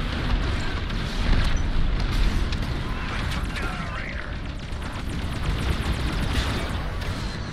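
Star Wars Squadrons fleet battle: a raider ship blows up amid continuous loud booming and rumbling blasts, a dense roar of explosions sustained throughout.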